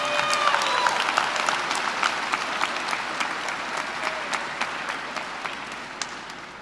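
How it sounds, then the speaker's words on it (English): High school graduating class applauding parents, teachers, family and friends at a commencement ceremony, a large crowd clapping steadily and loudly in a big hall, slowly tapering toward the end. "I would like to now ask the class of 2020 to give a round of applause"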